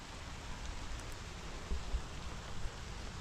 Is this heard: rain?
yes